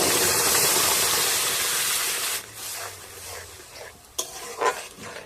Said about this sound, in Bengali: এবার দিয়ে দিচ্ছি পেস্ট করা লাউ।